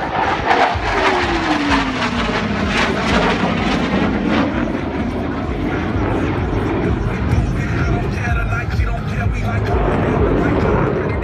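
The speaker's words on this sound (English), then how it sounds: "the responsiveness and precise control of his F-15 with this 4-point rocket" An F-15SG fighter jet flying an integrated airshow display in Singapore, a loud continuous jet roar with a brief falling whine early on, heard under a commentator's announcements.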